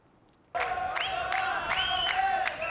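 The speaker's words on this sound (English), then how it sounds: "Cheering and clashes in Jerusalem as Israelis celebrate the 58th year since Israel's takeover of the area in 1967." A crowd at an Israeli celebration march in Jerusalem suddenly erupts in loud, sustained cheering and whistling, with shouts and chants rising over the roar and continuing to the end.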